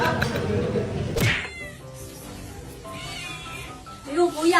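A house cat meows and caterwauls close by with drawn-out, wailing cries, overlapping with people talking in the room.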